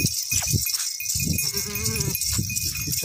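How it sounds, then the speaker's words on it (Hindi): A pure Nachi goat gives a single wavering bleat in the middle. Loud, hissing background noise runs under it throughout. "ये वाली बकरी है माशाल्लाह, जो प्योर नाची है वही प्योर नाची कहते हैं माशाल्लाह इसको"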